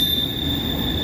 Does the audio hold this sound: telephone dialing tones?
no